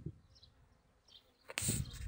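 Carniolan honey bees buzz faintly on a hive frame, a soft intermittent hum close by that swells into a louder, denser burst of buzzing near the end.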